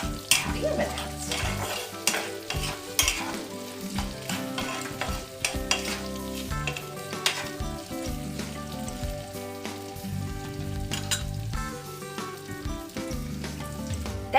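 Onions frying with a pinch of salt in a pan for a South Indian red kara chutney, a steady close sizzle broken by repeated stirring scrapes and clinks of a utensil on the pan throughout, with no talking.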